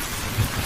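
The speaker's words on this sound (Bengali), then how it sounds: "ভীষণ বৃষ্টি হচ্ছে।" Heavy rain outside in a cartoon scene, a dense steady wash of noise with a faint low rumble partway through.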